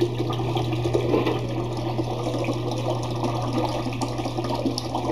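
A washing machine fills with water for a laundry load outdoors near a yard, giving a steady rushing, trickling flow over a constant low mechanical hum, moderately loud and continuous with no talking.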